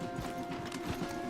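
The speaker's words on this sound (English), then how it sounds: "let's dismount here. We won't get the horses down this path." Horse hooves clip-clop in a steady walking rhythm in Red Dead Redemption 2, close and moderately loud over a continuous ambient game hum, with no clear neigh.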